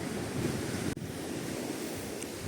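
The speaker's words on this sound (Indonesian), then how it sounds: "Ini anginnya gede banget, jadi lumayan dingin." Strong wind roars across an open orange farm in Japan, a steady, loud gusting rush with low rumble and no one speaking, briefly dipping about a second in before surging on.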